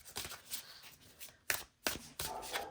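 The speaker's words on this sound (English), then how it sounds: "Let's zoom out and shuffle the cards" Tarot cards being shuffled in a few quick riffling bursts, crisp papery flutters close up with short pauses between them.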